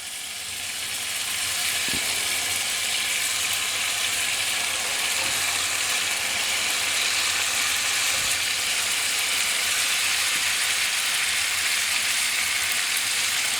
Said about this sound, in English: Let's take our beautiful scallops and let's add them